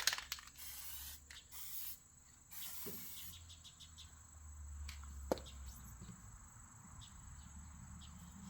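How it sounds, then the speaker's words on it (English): Grease sprayed onto a part of an old Murray Explorer go-kart, a close hissing aerosol burst at the start followed by a few shorter sprays, then quiet room tone with faint ticks. "Let's put some grease on it."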